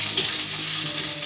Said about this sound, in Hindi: देखिए कितना सुंदर तड़का सिक रहा है